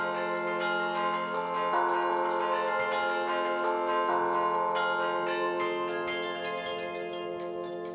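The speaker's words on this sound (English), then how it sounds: "So let the bells ring." Several bells of a memorial belltower ring out together in a sustained, overlapping peal, their tones lingering and blending with a gentle chime-like rhythm.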